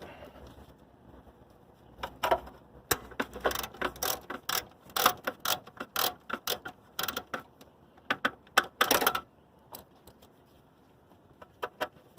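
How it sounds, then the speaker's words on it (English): A hand ratchet clicks in quick irregular bursts, loud and close, while backing out 10mm screws on the V6 4.0L engine of a 2008 Nissan Pathfinder. "Before you completely remove all these 10mm screws, make sure you take the 2 screws on the side."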